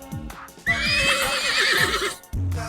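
A mare neighs loudly in a long, high, wavering whinny close by, with shorter horse and hoof-like sounds before and after.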